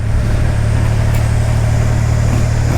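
A Triumph Rocket 3 R motorcycle's big engine runs with a steady, loud, low rumble under light throttle, continuous and close, with no talking.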